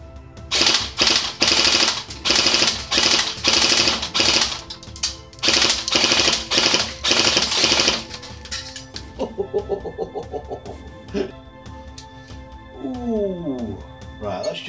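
Airsoft gun fitted with an Acetec Predator MK3 tracer unit fires rapid full-auto bursts, several loud clattering strings close by, then a few sparse single shots with mechanical clicks.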